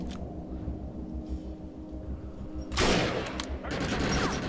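Gunfire in the video game Defiance, a few faint shots under a low game soundscape followed by two loud, close bursts of rapid fire near the end.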